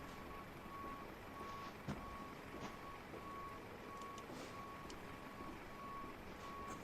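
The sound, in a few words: truck reversing beeps in flight simulator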